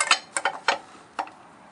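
Lug nuts on a car wheel being tightened with a wrench, producing a few short close ratcheting clicks in uneven bursts, then a brief pause and one last click.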